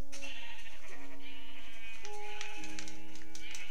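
Sheep in Minecraft on Xbox 360 bleat a few times, with synthetic tones layered over them and faint clicking.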